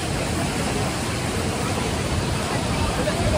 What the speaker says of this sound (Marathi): मित्रांनो धबधब्यात आलेलो आहे.